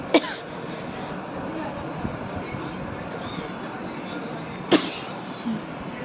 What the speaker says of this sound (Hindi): बस खांसी आ गई थी मुझे